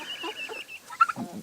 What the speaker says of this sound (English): I have these 3